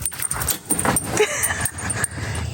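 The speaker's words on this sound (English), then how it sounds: "He's a farm dog." A farm dog whimpers and yips in short, uneven bursts close by, mixed with rustling and scuffling movement, and a few soft vocal sounds scattered throughout.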